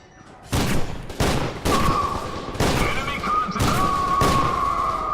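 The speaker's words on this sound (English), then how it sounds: "automatic shotgun's not so automatic as much as it is semi-automatic" Semi-automatic shotgun in F.E.A.R. 2: Project Origin, six heavy blasts spaced roughly half a second to a second apart, each with a booming tail, and a faint tonal hum lingering between shots.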